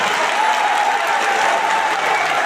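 Thunderous applause rolls from a large crowd at a Bageshwar Dham religious discourse gathering, a steady, loud, unbroken roar of clapping filling the whole moment.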